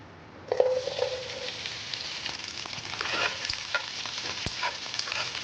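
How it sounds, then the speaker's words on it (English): Okra and large onion chunks hit hot oil in a pan for bhindi do pyaza, giving a sudden loud sizzle that settles into a steady close crackle with scraping stirs throughout. "So first we have to fry some bhindi and big onion as we already kept it ready for it."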